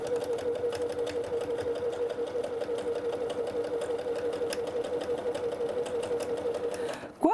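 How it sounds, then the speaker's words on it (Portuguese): A sewing machine stitches a patchwork seam close by, a steady rapid whirring hum that runs evenly for several seconds before stopping abruptly at the end. "Vou para a máquina e vou passar uma costura aqui"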